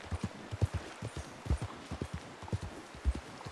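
Horse hooves clip-clop steadily in the video game Red Dead Redemption 2, a close, rhythmic run of muffled thuds with no talking.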